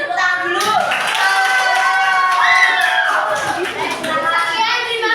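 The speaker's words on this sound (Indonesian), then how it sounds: "beri tepuk tangan dulu" A high school class in an emotion-management guidance lesson breaks into applause, with a lively clatter of hands mixed with excited students' voices and cheering.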